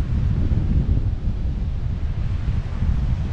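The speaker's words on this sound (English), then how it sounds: "It's windy up here." Strong wind buffets the microphone on Pensacola Beach Gulf Pier, Florida, with a steady, loud low rumble throughout, with no voices.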